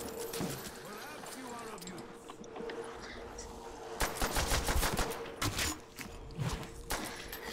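Rapid bursts of gunfire and machine-gun fire ring out while fighting zombies in Call of Duty Zombies, loud and clustered in the second half, with players talking over the action.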